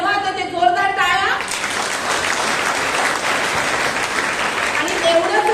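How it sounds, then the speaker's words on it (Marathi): A gathering breaks into loud applause right after a voice finishes speaking, the clapping swelling and holding steady, with speech resuming faintly near the end. "जोरदार टाळ्या."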